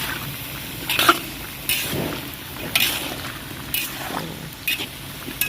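A spoon stirs cauliflower and potato curry with salt and turmeric in a pan, giving a steady faint sizzle and scraping strokes with intermittent clinks against the metal.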